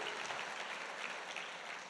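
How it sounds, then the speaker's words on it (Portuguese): A church congregation claps for Jesus during a sermon, giving two seconds of steady, dense applause heard from across the room with no speech over it. "Dá uma salva de palmas para Jesus."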